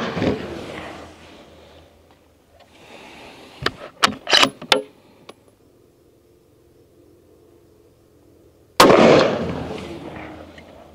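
Three sharp, loud rifle shots from a Howa 1500 Superlite hunting rifle, fired in quick succession a little apart, followed later by another loud blast-like burst, with quiet outdoor ambience between.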